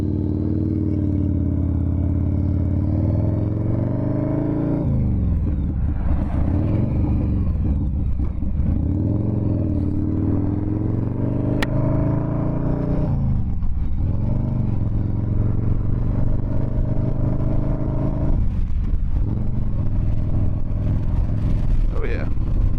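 A Harley-Davidson Softail Fat Boy, a 95th Anniversary Edition, rumbles steadily underway, its deep engine note rising and falling through gear changes for the whole ride.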